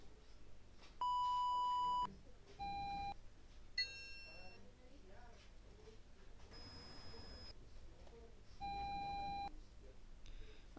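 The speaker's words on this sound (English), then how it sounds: "We're gonna do a long beep." Several synthetic electronic beeps from a Roblox game, steady tones of varying length and pitch, including sustained ones of about a second, sounding one after another, separated by short gaps over a faint background.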